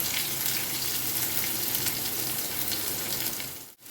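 Chopped onions sizzle loudly in hot oil, a dense, steady crackling hiss that runs without pause until a brief dip right at the end.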